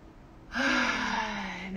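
A single deep, slow breath taken during a guided meditation, a soft airy rush that swells and holds steadily for over a second, close and alone.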